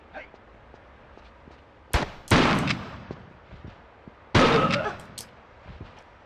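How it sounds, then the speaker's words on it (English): In Tomb Raider 3, a shotgun fires twice, each a loud booming blast with a short decaying tail. The shots come a couple of seconds apart over faint game ambience, with a few lighter clanks between. "My shotgun again."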